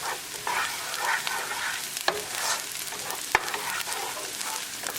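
Onions and green chili frying in a pan, stirred steadily with a constant sizzle and a few sharp utensil knocks against the pan, close up with no talking.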